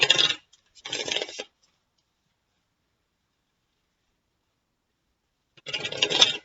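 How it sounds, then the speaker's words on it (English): Tarot cards are shuffled in three short bursts of riffling and sliding, close and crisp, separated by a long silent gap. "One more shuffle, and then I'll cut for you."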